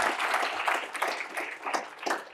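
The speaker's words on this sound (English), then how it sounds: "Oh, okay, we'll clap." An audience at a law debate breaks into brief, lively applause, a dense crowd of clapping hands with uneven surges, close and fairly loud.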